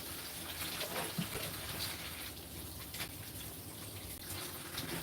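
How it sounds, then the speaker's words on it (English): Tap water runs steadily into a kitchen sink as hands are washed beneath it, a continuous close splashing rush with no talking. "so let me wash my hands"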